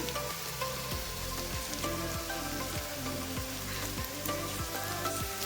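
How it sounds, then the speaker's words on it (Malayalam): Slit green chillies sizzle in oil as a spoon stirs them in a pan, a steady crackling fry with repeated regular scraping strokes and a low hum beneath, no voices. "പച്ചമുളക് ചേർത്തതിന് ശേഷം നന്നായിട്ട് ഇളക്കി കൊടുക്കാം. ഒന്ന് വഴന്ന് വരട്ടെ."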